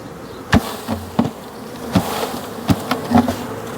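Honeybee swarm being shaken from a box into a small nucleus hive, with sharp knocks and thumps at irregular intervals over a steady insect buzz, close and fairly loud.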